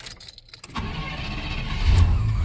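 A 2002 Chevrolet Silverado with a new starter cranks over and starts, moving from an initial clatter to a loud, sustained engine rumble that swells near the end.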